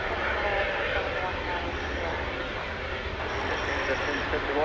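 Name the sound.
American Airlines plane taxiing to the hangar at DFW Airport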